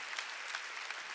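A church congregation claps together during a Wednesday worship service, a brief, dense burst of many hands filling the room.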